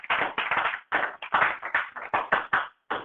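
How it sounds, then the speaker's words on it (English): A classroom audience breaks into a round of applause, dense overlapping hand claps in bursts that swell and dip for about three seconds, with a short pause near the end before clapping resumes. "Give them a round of applause."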